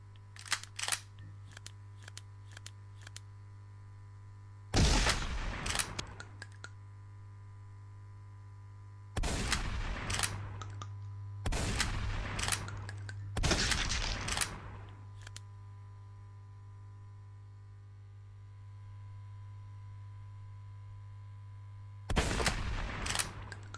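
Weapons fire at targets in the video game Post Ghost Apocalypse, with several loud bursts of rapid shots separated by pauses and a steady low electronic hum underneath.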